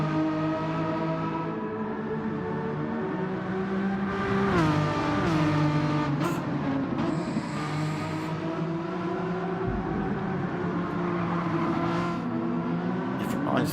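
Renault Megane Trophy race cars drone steadily at high revs around the Sardegna circuit, a continuous near engine roar with slight pitch shifts as they run in a slipstream into a corner, while a commentator talks over it.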